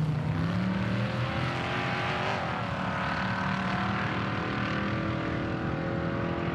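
An off-road race car engine roars away from the start line at the King of the Hammers desert race, a loud, steady, throaty drone with shifting pitch that holds throughout, no voices over it.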